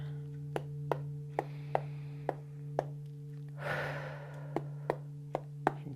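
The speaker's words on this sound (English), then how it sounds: "Deep breath in." A slow, deep breath drawn in and let out during a calm guided tarot meditation, heard as a soft rushing swell near the middle. A steady hum and regular faint ticks run underneath throughout.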